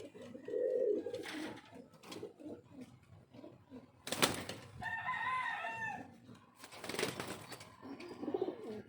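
Pet pigeons coo in soft, repeated bursts at close range, and a few brief harsher wing-like flutters come through between the calls.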